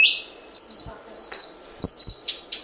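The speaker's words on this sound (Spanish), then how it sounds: "Ahora sí que es un pajarito de verdad." A real small bird chirps in a quick series of thin, high tweets, close and fairly clear, with faint low thumps and a soft hiss underneath.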